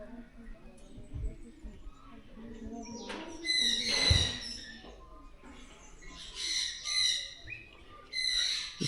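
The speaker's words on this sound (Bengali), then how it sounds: "অনেক পাখি আছে এখানে। এই পাখিগুলো দেখো কত সুন্দর" Birds calling at Sidekeong Tulku bird park in Pelling, with a few bright, chirpy calls in short bursts, moderately close, over a quiet outdoor background with faint rustling.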